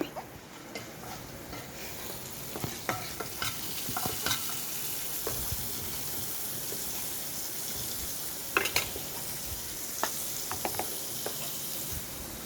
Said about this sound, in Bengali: রসুনটা একটু ভাজা হয়ে এলে